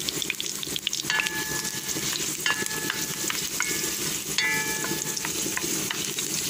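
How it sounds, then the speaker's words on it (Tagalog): Garlic fries in a hot pan (kawali), giving a steady close sizzle with occasional scraping stirs over it and no voices. "unti-unti naluluto na yung ating bawang"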